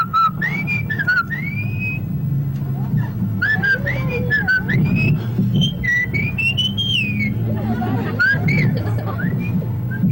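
Contestants whistle tunes at the first annual Whistle-Off contest in Albertville, with sliding, melodic notes carried over a steady crowd hubbub and background chatter throughout.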